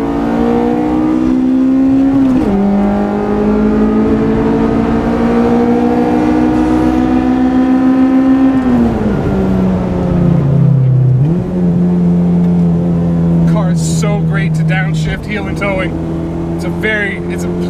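A tuned Honda Civic build with launch control and no-lift shift revs hard through VTEC, a loud rising engine wail that drops abruptly at each quick upshift and climbs again. The engine is heard up close from inside the car.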